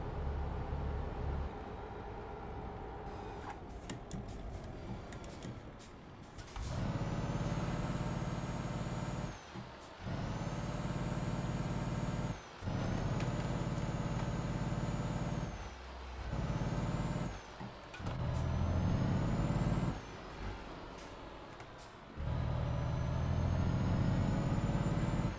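Heavy truck driving in Euro Truck Simulator 2, a steady loud engine drone with gear-change dips and brief pauses, air brake hisses and high whine layered over the rumble throughout, no talking.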